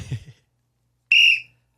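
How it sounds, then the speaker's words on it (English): A referee-style whistle gives one shrill, steady blast of about half a second, loud and close, just after a brief murmur of voice. "Let me blow my whistle."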